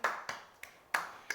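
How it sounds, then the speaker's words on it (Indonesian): A school class clapping hands in a few distinct, evenly spaced claps, close and crisp with short decays, fairly quiet overall. "Oke, tepuk tangan dulu"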